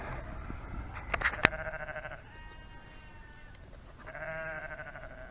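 Sheep bleat near a riverbank, several wavering, nasal calls at moderate distance, one near the start and a longer one toward the end, with quiet outdoor background between them and no talking.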